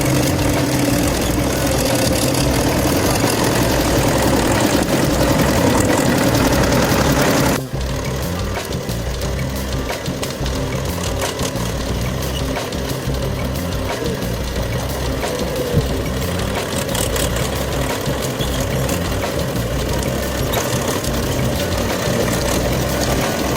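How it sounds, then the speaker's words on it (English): A blue logging tractor's heavy engine idles and rumbles steadily in a forest for the whole stretch, its drone shifting and dropping slightly partway through, with no voices. "Here comes a striking blue tractor making its way into the forest."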